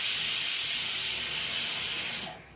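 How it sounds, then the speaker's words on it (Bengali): A pressure cooker cooking rice lets off a loud, continuous steam hiss and whistle up close, holding steady before tapering off at the end. "আর ওই দেখো প্রেসারে ভাতে সিটি দিচ্ছে"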